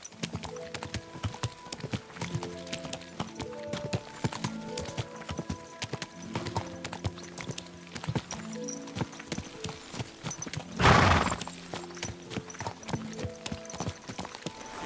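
A horse's hooves clip-clop in a steady trotting rhythm in Kingdom Come Deliverance 2, with a brief whoosh midway and ambient music underneath.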